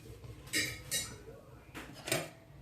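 A metal spoon scoops clumps of cooked rice for chicken and rice soup, giving four soft clinking scrapes against a pot in a quiet kitchen, two close together, a pause, then two more.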